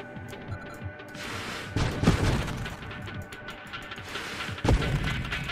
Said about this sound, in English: Oh, we are doing lots of explosions.